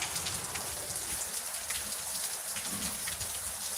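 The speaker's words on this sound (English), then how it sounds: "It's really raining now." Heavy monsoon-season rain pours down steadily outdoors, a dense continuous hiss of drops striking the ground and puddles, loud and unbroken, with no voices.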